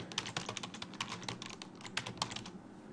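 A password being typed on a computer keyboard: a fast run of soft, close clicks that stops just before the end, fairly quiet, with no voices.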